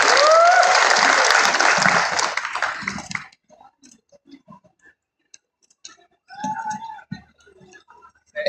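A crowd at a Seoul National University labor-student solidarity rally breaks into loud applause that fades after about three seconds. Scattered faint claps, taps and small noises follow in the near quiet.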